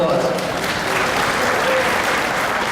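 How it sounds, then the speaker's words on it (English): A dense, continuous round of applause from an audience at a member preview event, loud and even throughout, with a crowd murmur blended into the clapping. "Give yourselves a big round of applause."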